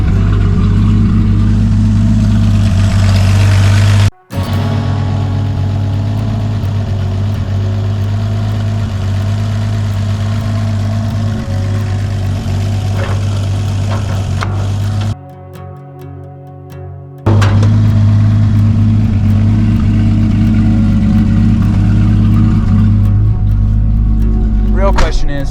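A 1987 Toyota Land Cruiser with a 2F engine, run for the first time after sitting seven years, idles loudly and steadily with a deep, even rumble, briefly cutting out twice, and someone talks over it.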